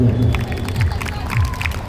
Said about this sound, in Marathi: जरा हक्काची जोरदार टाळी होऊ द्या